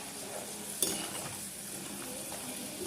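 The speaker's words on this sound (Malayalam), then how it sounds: "ഇങ്ങനെ നമ്മളൊരു 3 മിനിറ്റോളം ഒന്ന് ഫ്രൈ ചെയ്തെടുക്കണം" Potato strips for French fries fry in hot oil, a steady bubbling sizzle at moderate level with one brief clink of a utensil near the start.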